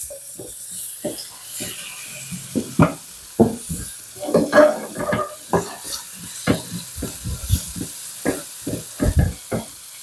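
Garlic, then onion, sautéing in a pan with a soft sizzle, broken by a series of sharp stirring clacks and scrapes close by, alone without talk.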